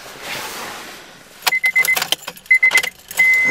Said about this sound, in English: Turn the key off and on.